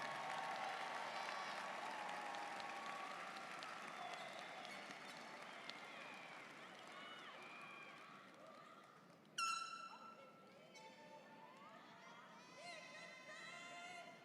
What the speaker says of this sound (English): Let us give them a well-deserved round of applause.